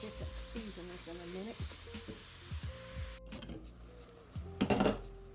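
Onions and mushrooms cook in a pan with a faint, steady sizzle under soft background tones, punctuated by a few stirring scrapes and a louder clatter near the end.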